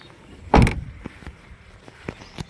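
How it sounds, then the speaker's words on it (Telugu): A used 2016 Maruti Suzuki S-Cross Zeta diesel has its car door shut with one solid, loud thud, followed by a few softer clicks and small knocks from the cabin. "డోర్ సౌండింగ్ అనేది కూడా చాలా పర్ఫెక్ట్గా ఉంది"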